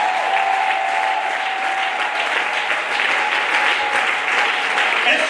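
A church congregation applauds and cheers in praise of Jesus during worship, steady dense clapping that continues throughout, with a faint steady tone and crowd voices underneath.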